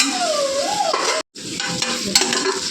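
Green chillies sautéing in hot oil in a pan, a steady close sizzle with scraping stirring sounds and a brief silent cut partway through.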